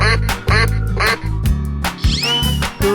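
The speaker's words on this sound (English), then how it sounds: "duck," Cartoonish duck quacks from a 3D animal slide video game, several short quacks over steady upbeat game music and effects.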